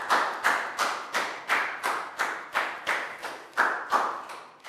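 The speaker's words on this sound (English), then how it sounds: "Big round of applause for Dan." A Year 3 maths classroom gives a student a round of applause: a dozen evenly spaced, close, loud bursts of clapping in a steady rhythm, with no talk over them.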